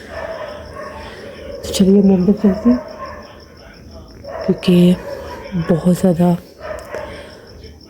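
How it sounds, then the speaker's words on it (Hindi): Several dogs bark in sharp bursts on a foggy winter night outdoors, fairly close and loud, while someone talks over a constant chirping of crickets. "आप शोर सुन रहे हैं, हर तरफ कुत्तों का शोर है।"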